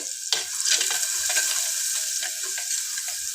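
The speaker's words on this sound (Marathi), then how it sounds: "मस्त अशी छान फोडणी दिले" Spices tempered in very hot oil in a pan for a drumstick masala dish, a sudden bright crackling sizzle that bursts in and spits steadily for a few seconds, close and unaccompanied by talk.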